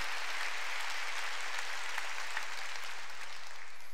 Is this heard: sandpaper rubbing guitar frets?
no